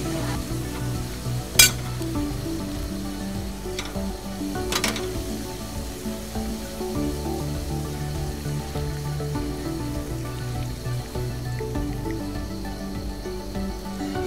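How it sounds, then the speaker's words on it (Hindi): A steady, low bubbling and sizzling of homemade Ayurvedic herbal pain-relief oil simmering in a pot, continuous throughout, with a couple of faint metallic clinks near the start. "ये तेल देखो इधर जो पक रहा है ना, ये खदक रहा है पूरा।"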